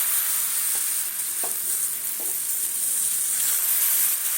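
Steady sizzling of gram flour batter in a hot pan with butter, a continuous bright hiss with a few faint scraping taps, no voices.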